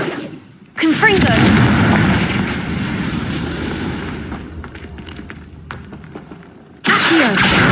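A Confringo spell in Hogwarts Legacy sets off a loud, booming explosion that rumbles and slowly decays, followed several seconds later by a second sharp blast.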